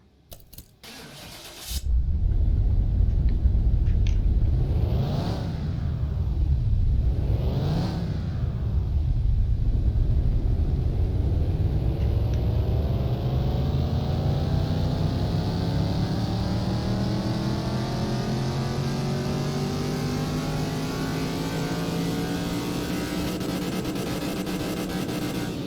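A car engine in Car Mechanic Simulator 2021, a junkyard rebuild on a dyno, starts with a thump and blips twice. It then roars loud and close through a long, steadily climbing pull, with no talking.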